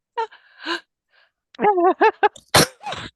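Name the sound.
sneeze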